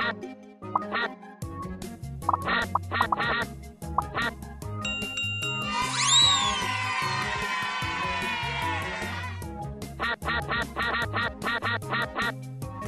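Repeated cartoonish duck quacks come in quick bursts over a bouncy tune in the game Teach Your Monster to Read, with a bright sweeping chime in the middle.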